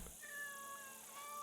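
A tabby bobtail cat in the video game Assassin's Creed Shadows gives a short, faint, drawn-out meow, heard alone over a soft background hiss.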